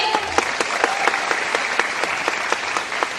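A group applauds at a gathering in sustained clapping, with sharp individual claps standing out at a fairly regular rhythm over a steady wash of hands.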